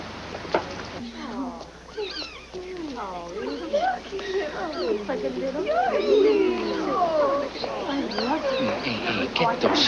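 Several cats meowing and yowling in a busy, overlapping chorus of rising and falling cries, close and fairly loud, with a voice joining partway through.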